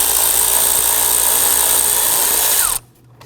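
On a 2008-2011 Ford Focus 2.0L L4, a power tool buzzes loudly and steadily while running down the lower starter bolt, then cuts off abruptly near the end, leaving quiet shop background.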